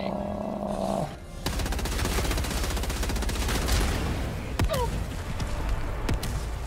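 Enemy artillery fire in Helldivers 2, a dense, sustained rattle of rapid blasts and impacts with a heavy thump partway through, loud and continuous over busy battle noise.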